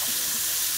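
Minced beef sizzles in hot rapeseed oil in a pan, a steady, dense crackling hiss throughout the brief moment.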